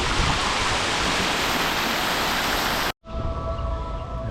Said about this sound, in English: They love their water fountains in Tajikistan.